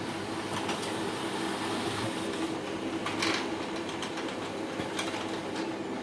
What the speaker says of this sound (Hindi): स्टार्ट हो रहा है हमारा प्रिंटर